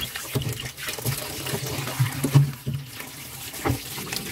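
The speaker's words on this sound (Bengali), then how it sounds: "তো আমি প্রথমে সবজিগুলোকে ভালো করে ধুয়ে নেব," Vegetables being washed under running tap water in a kitchen sink, a steady moderate splashing flow with a few louder splashes, close by, with no talking.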